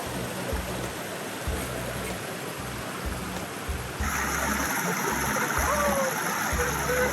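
River water rushing steadily near a waterfall, a broad continuous wash that grows slightly louder midway, with people talking quietly over it and a dog splashing in the water.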